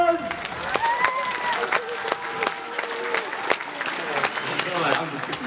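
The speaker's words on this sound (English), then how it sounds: "everybody give you a round of applause" Audience at Gamercon, a gaming convention, applauds after a close competitive game battle, with steady clapping and cheering voices and talk mixed in over several seconds.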